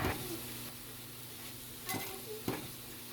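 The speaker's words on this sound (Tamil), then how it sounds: "அப்புறமா எண்ணெயில் வந்து பூண்டை நல்லா ஃப்ரை பண்ணி எடுத்துக்கணும்." Garlic frying in oil gives a faint, steady sizzle, with a few brief clinks and scrapes of a utensil stirring in the pan and no talking.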